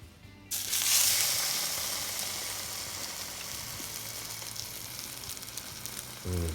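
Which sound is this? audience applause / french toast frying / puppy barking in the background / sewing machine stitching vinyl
french toast frying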